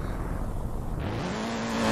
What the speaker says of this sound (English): Let's launch this car